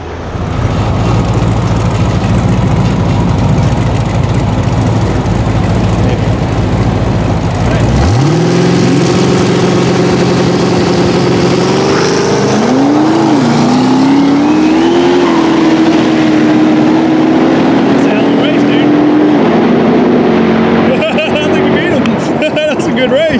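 Loud engines roar and rev at a drag race, then one shifts to a rising, sustained high-pitched drone as an LS twin-turbo Toyota Hilux accelerates hard, with voices talking over it.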